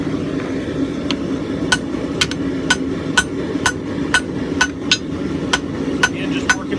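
A hammer forges a farrier rasp into a tomahawk axe, striking in a steady series of sharp metallic blows roughly every half second, close and bright over a constant low background hum.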